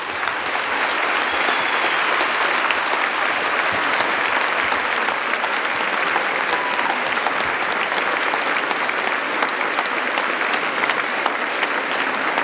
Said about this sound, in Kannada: ತಮ್ಮ ಪ್ರೀತಿಯನ್ನ ಅಜೀಂ ಪ್ರೇಮ್ಜಿ ಅವರಿಗೆ ತೋರಿಸ್ಬೇಕು ಚಪ್ಪಾಳೆಯ ಮುಖಾಂತರ